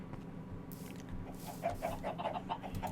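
Minecraft chickens cluck in short, soft repeated bursts over a steady low game hum, growing busier toward the end of the stretch.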